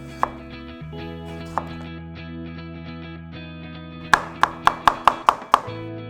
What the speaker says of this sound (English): Just going to cut all the skin off.